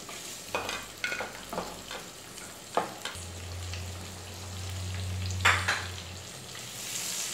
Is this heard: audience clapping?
no